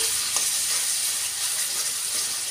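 Ginger frying in hot oil in a pan with spices. A loud, dense, continuous sizzle hisses evenly and close-up, with no pauses or other sounds.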